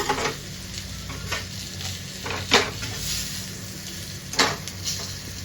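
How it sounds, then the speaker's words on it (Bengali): Fried pointed gourd lifted out of sizzling oil, steady frying hiss close by with several sharp metallic scrapes and clinks of a utensil against the pan. "এই যে আমি তুলে নিচ্ছি।"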